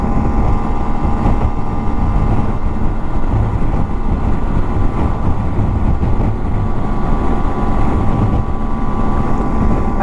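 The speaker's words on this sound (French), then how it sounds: "Il y a quand même pas mal de vent" Strong wind roars across the microphone during a ride on a 125 Varadero motorcycle along a wine route, a loud continuous buffeting rush with a steady engine drone beneath it.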